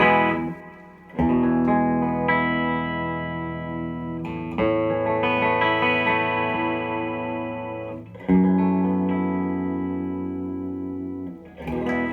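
A Collings electric guitar rings out sustained chords and melodic lines, washed in reverb with echoing delay trails, played clean and fairly loud with a few restarts.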